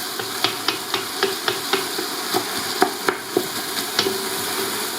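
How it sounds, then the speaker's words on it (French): Octopus simmering in tomato sauce in a pan, a steady bubbling sizzle punctuated by repeated light taps and clicks of a utensil stirring or knocking against the pan. "Là, le poulpe, il va vraiment cuire dans la sauce tomate."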